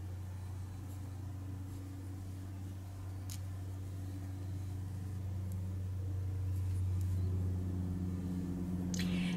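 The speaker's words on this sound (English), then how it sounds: "And if you hear all that background noise, my husband is out cutting the grass." A lawn mower cutting grass outdoors drones steadily from a distance, mixed with the low, constant rumble of traffic on a nearby four-lane highway. The sound is faint and slowly swells louder toward the end.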